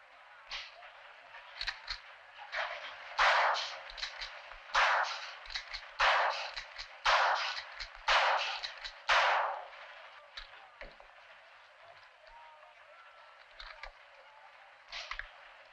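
Gunshots at a shooting contest in Texas, a run of about a dozen sharp cracks in irregular succession, some echoing, at moderate distance, then fading to quiet.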